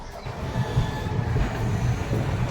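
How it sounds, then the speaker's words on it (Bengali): Teesta Torsa Express pulling out of New Cooch Behar station in dense fog, a steady low rumble and rattle of carriages heard from on board, with a faint squealing tone above and no voices. "নিউ কোচবিহার স্টেশন থেকেও ট্রেন ছেড়ে দিয়েছে"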